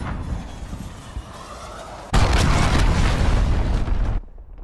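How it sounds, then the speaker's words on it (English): An enemy cruise missile detonates in Call of Duty Modern Warfare with a sudden, loud, booming blast that rumbles for about two seconds before cutting off, following quieter battlefield noise. "Enemy cruise missile, take cover!"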